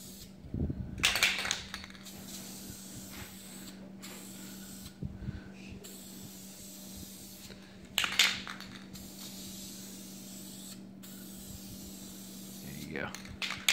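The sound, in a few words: spray painting an LS2 engine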